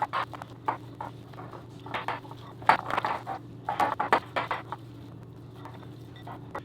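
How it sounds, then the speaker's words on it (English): Ground turkey and breadcrumbs mixed by hand in a bowl make soft, wet squelching and patting sounds in irregular bursts. Faint clinks come from the bowl under a low steady hum. "just go ahead and mix that all together, fold those breadcrumbs in there"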